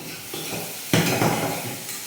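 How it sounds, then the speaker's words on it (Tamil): Okra sizzles and crackles in a hot pan, with a louder burst of frying and a faint clink partway through. "இந்த பக்கம் வெண்டைக்காய் நல்லா ஃப்ரை ஆகும்."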